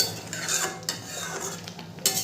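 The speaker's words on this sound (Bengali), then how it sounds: "সর্ষের তেলটা মিশিয়ে নেব" Raw mustard oil being stirred into aloo posto, soft scraping strokes of a spoon in a pan with faint sizzle, quiet and close, with no talk.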